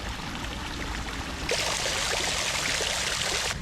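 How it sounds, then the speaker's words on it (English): Steady flowing water rushes continuously in a Singapore garden, growing brighter and louder partway through, with no voices. "The sound of water around here is really nice."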